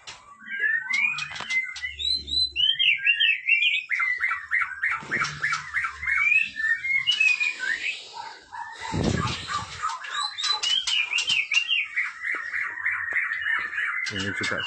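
An albino oriental magpie-robin sings in a bird-breeding aviary, with rapid bright chirps and trills repeating throughout, other birds calling nearby and a brief low voice partway through.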